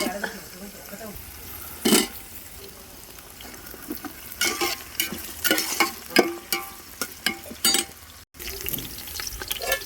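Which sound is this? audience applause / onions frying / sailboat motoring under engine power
onions frying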